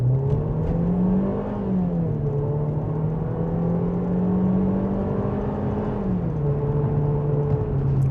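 Seat Arona 1.0 small engine accelerating from a full stop, a steady close-up cabin drone that climbs in pitch, drops back at gear changes and climbs again with no talking.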